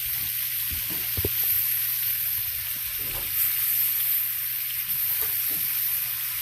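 Ribeye steak frying in a pan, a bright, steady hissing sizzle heard up close and continuous, with a few soft clinks and scrapes from handling.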